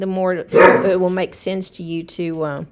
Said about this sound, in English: I apologize if you hear barking in the background.